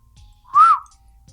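A person whistles once, a short, clear rising-and-falling note heard alone in near silence, used to toggle a phone flashlight on or off.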